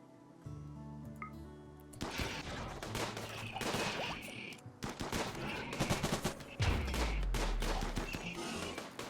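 Video game gunfire crackles in rapid bursts and sustained automatic volleys, dense and loud after a quieter start, with shots layered over a low rumble.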